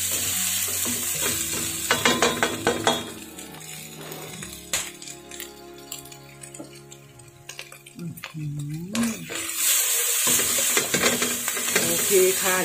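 Instant noodles stir-fried with soy sauce and large shrimp hiss and sizzle loudly at the start and end. Metallic clinks and scrapes of tossing come through a quieter middle stretch, with a voice briefly audible.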